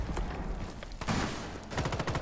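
Gunfire rattles in a ranked Rainbow Six Siege match, bursts of rapid shots arriving in clusters, loud and close, with sharp repeated cracks toward the end.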